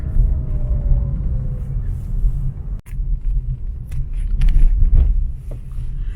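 A car driving through Cebu City gives a constant low engine and road rumble from inside the cabin, with light rattles and faint traffic noise around it.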